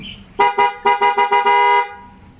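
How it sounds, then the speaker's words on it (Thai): A loud, close Bosch horn fitted to a Yamaha TMAX motorcycle gives several rapid bursts of honking, then one longer held blast before cutting off. "แล้วก็ติดตั้งแตรด้วยนะครับ บอสแท้นะ ฟังเสียงครับ"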